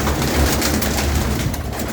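A red pigeon coos softly and close by against a steady low background hum, with no talking.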